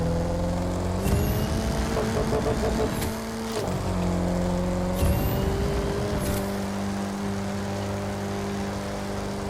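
A Mercedes X-Class pickup in The Crew 2 racing game driving offroad uphill, its engine droning steadily with revs rising and brief shift breaks as it changes into fifth gear, no voices.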